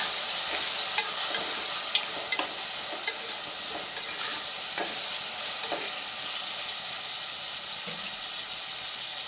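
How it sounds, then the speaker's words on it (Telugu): Brinjal pieces sizzle steadily as they fry in a pan, with scattered scrapes and clicks from a spatula turning them throughout. "కట్ చేసి పెట్టుకున్న ముక్కలు ఒకసారి తిప్పుకుందాము."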